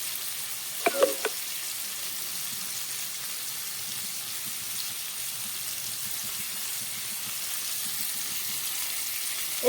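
Two green chilies fry in hot oil in a pan for vegetarian khichuri, a steady soft sizzle running throughout with a couple of brief clinks near the start and no voices.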